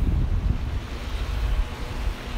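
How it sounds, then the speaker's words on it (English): Cold wind buffets across a beach, a steady loud rumble of gusts hitting the microphone with a faint wash of surf underneath, no voices. "Cold, windy air gets the blood flowing."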